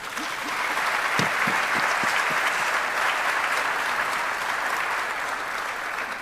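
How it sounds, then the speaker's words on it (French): Steady, full applause from a seated audience at a public talk, a continuous dense clapping that stays even in loudness throughout, with a few sharper individual claps early on. "Je pense qu'elle mérite des applaudissements."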